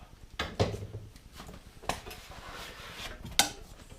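Arrow being worked free from a 3D foam buck archery target, a few sharp scraping and thudding bursts, close and fairly faint, separated by quiet stretches.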